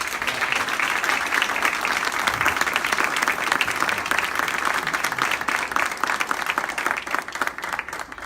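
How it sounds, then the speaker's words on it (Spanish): A crowd applauds steadily and warmly, thick continuous clapping filling the room, tapering only slightly near the end. "Les pido un aplauso"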